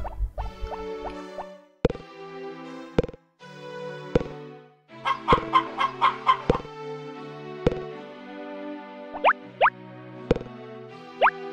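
Chickens in the Harvest Moon farming game, heard as a series of short, bright cartoon clucks and plopping blips over a steady looping tune, with no voices.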